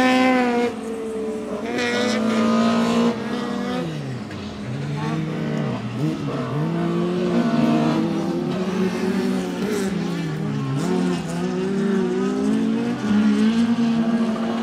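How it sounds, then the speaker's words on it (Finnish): Several rallycross cars roar and rev nearby, engines rising and falling in pitch with the high, buzzing whine of a Wankel rotary engine standing out among them. "Vankkelmoottorin ääni erottuu joukosta selvästi."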